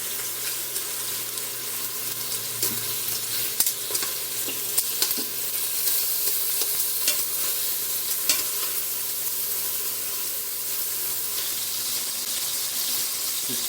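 Chicken sizzles and crackles steadily in a hot pan, a dense, close frying hiss with occasional pops and scraping stirs.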